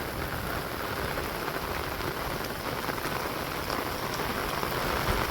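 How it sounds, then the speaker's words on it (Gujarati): Heavy rain pours down steadily, drumming on surfaces in a dense, even hiss that continues throughout without any voices. "એ બાજુ બહુ જ વરસાદ આવે છે"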